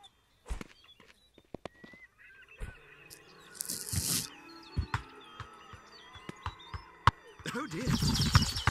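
Birds honking in the Ghost Giant VR game, with scattered honks and goose-like calls mixed with footsteps, clicks and other game sounds over several seconds, plus brief voices.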